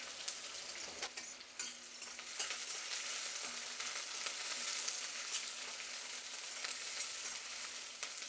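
Onions, curry leaves, mustard seeds and fenugreek sizzle in hot oil in a pan, a steady close hiss with faint crackles and occasional stirring, no talk.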